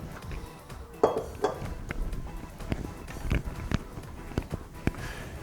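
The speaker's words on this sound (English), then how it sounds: "So the first thing we're going to do is put it into our larger bowl." Ham spread being scraped and spooned into a larger bowl, with close clinks and knocks of a utensil against the dish at uneven intervals over a soft background hum.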